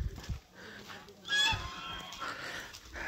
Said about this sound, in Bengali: রাজহাঁস আছে,